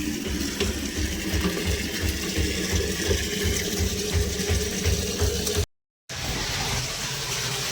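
Water running steadily into barrels, a continuous rushing flow with a rhythmic mechanical chugging beneath it, steady and close, briefly cutting out before resuming, no talking.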